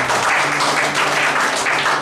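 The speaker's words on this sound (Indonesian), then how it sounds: "Sekali lagi yuk tepuk tangan buat Yesus." Church congregation applauding during a sermon, loud sustained clapping from a large crowd filling the room without a break.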